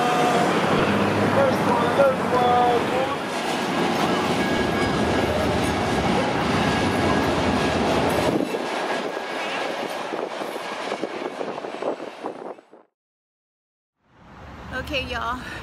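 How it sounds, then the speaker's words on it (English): A train rumbles past nearby with loud, continuous clattering that fades after several seconds, followed by near silence and then faint background noise. "So that's the train."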